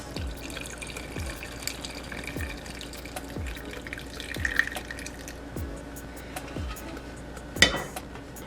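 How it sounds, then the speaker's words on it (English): Homemade lemon tea poured from a container into a cup in a kitchen, a steady liquid trickle with a few regular soft drips and a light clink near the end. "so now you're just going to pour a cup of this."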